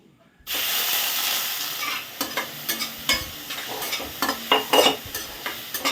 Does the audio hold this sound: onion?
yes